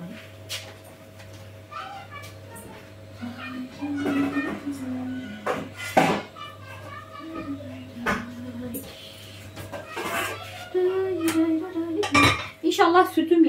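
Pots, dishes and cutlery clink and clatter in a home kitchen while a milk-based pudding is prepared, with sharp irregular knocks and scrapes, a cat meowing several times and someone talking at intervals.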